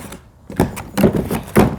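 A small cardboard door on an RC-themed advent calendar is pried open, giving a few close, dry tearing and thumping bursts separated by short pauses.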